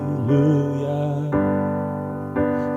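Three sustained piano chords are struck one after another, each ringing out before the next block chord lands.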